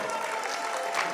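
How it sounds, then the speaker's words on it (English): Short wash of audience applause at an awards ceremony, a dense steady patter of many hands lasting about a second. "Let's give a round of applause."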